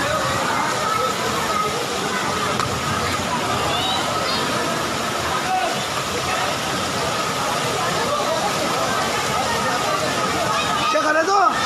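Flood water in Jaipur sloshing and rushing steadily through a street, a continuous wash with vehicle engine noise mixed in and people talking over it.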